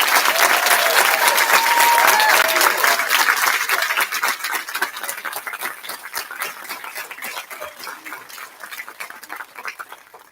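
Sustained audience applause fills the room at an Air Force ROTC commissioning ceremony for a new Second Lieutenant, loud and steady at first, then thinning toward the end, with faint voices mixed in.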